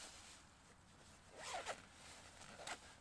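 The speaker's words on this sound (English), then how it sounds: "with a simple pull of a zipper" Jacket zipper pulled to deploy a hidden hood, two quick rasping zips about a second apart, quiet and close, heard alone without talk.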